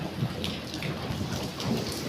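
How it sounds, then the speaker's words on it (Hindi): Heavy rain pours down steadily in a continuous dense hiss, with soft irregular pattering that fits hail mixed in, close and constant throughout. "ये देखिए मोटी मोटी बारिश हो रही है।"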